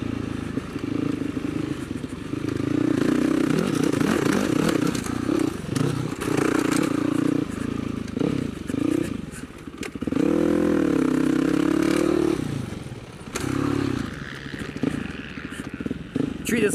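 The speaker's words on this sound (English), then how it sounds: "Treat this like a dirt bike." Dirt bike ridden on a dirt track section, the engine rising and falling through repeated revs and throttle bursts, with clattering and scraping from the ground, close and loud, and a rider's voice over it at times.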